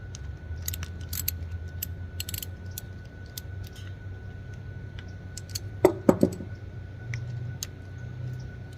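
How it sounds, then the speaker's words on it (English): Metal clicks of a 7mm socket wrench working loose the carburetor float bowl screws on a Troy-Bilt TB110 engine, a short cluster of sharp close ratcheting ticks in a quiet room, with lighter tool clinks scattered around. "we actually need a 7mm socket or a 7mm opening wrench to get those screws"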